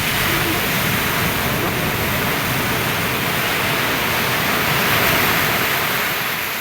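Strong sea waves at a beach roll in as a steady, loud wash of surf, close and continuous with a slight swell in the middle, no voices over it.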